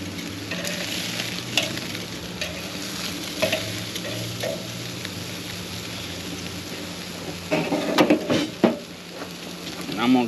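A coffee-rubbed ribeye steak sizzles in a pan just after being flipped, a steady, close hiss of frying with occasional clatter bursts and a louder flare of spattering near the end.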